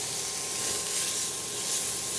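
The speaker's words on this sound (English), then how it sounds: "Now we're going to saute this just about 30 seconds" Oregano, capers and olives sauté in a pan, a steady even sizzle and hiss, close and fairly quiet, with no speech.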